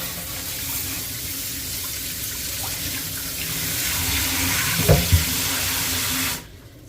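Tap water runs steadily over peace lily roots as they are rinsed during repotting, a close, continuous splashing that swells briefly near the end before cutting off.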